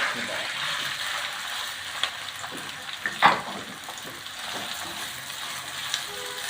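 Two medium onions, sliced, fry in a pan toward golden brown, a steady close sizzle with a few brief clinks and one stirring scrape midway, and no voices.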